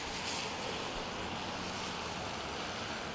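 Heavy rain pours down outdoors as a steady, dense hiss with no break. Only a faint background rumble sits beneath it.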